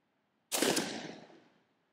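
A single .410 shotgun blast firing a Pendleton turkey load during a pattern test, one sharp loud report out of silence, then a decaying outdoor echo lasting about a second.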